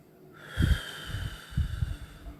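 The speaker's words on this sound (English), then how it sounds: "And now I just want you to take a deep breath." A slow, deep breath taken during a calming stress-relief exercise, with two airy inhale-exhale swells close to the microphone over a faint steady background hum.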